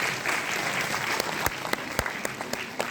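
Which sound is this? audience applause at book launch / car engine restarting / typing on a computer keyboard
audience applause at book launch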